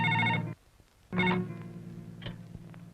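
A telephone rings in a Hindi-dubbed action film scene, two loud electronic ring bursts separated by a short gap, the second trailing into quieter room tone.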